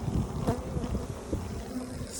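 Honeybees buzz around an open hive during beekeeping, a dense close drone of many wings with a few louder passes near the listener.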